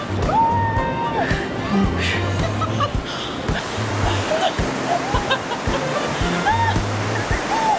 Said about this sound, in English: I'll show you a waterfall over here.